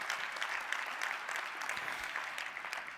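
An audience claps steadily throughout, a dense, even wash of applause honoring a man who died this year, with no voices standing out.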